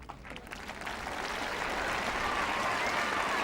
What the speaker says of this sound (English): I think there'll be a lot more applause than that for Zvereva